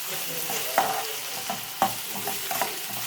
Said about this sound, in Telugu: అల్లం వెల్లుల్లి పేస్టు వేగిపోయింది